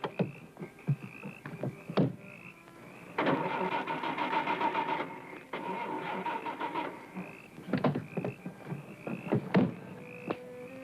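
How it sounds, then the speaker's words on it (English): A car engine cranks over and over without catching, the whirring starter running in long bursts broken by clicks and knocks, fairly close and with no talking. "my car won't start"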